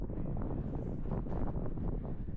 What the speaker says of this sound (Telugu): నాకు తెలిసి ఫుల్ గాలి వస్తుంది,